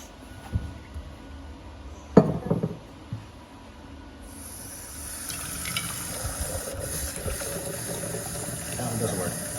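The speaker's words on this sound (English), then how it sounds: "Turn the water on this bad boy." A tap is turned on and water gushes steadily from about midway, a continuous rushing that follows a few clanks and knocks, with people talking nearby.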